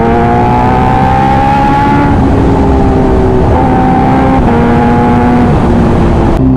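A Kawasaki H2R superbike engine revs loudly and close, its tone holding and then sliding up and down in pitch across several seconds, with a brief break near the end.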